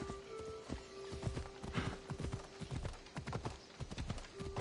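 Horse hooves clip-clop at a steady galloping rhythm in the Assassin's Creed video game, a continuous close beat with a brief whinny-like tone.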